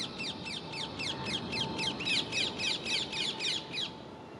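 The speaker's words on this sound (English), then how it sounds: "I saw a parakeet fly into some lower trees a little way down the hill" Ring-necked parakeets in trees give a rapid series of about a dozen harsh, screechy calls in steady rhythm, moderately close over a low wind rumble.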